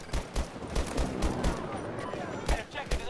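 Rapid bursts of automatic gunfire in Battlefield 2042, sharp repeated shots in irregular clusters, fairly distant and moderately loud, with faint game noise between volleys.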